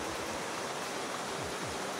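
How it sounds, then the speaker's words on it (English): River flowing at the bottom of the Barranca de Huentitán canyon near Guadalajara, a steady broadband rushing of water, continuous and even, heard alone without voices. "Here's the river."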